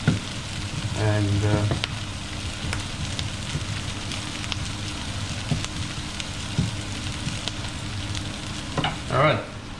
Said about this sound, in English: it's kale cooking